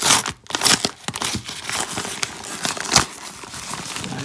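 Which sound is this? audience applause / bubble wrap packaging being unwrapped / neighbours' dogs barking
bubble wrap packaging being unwrapped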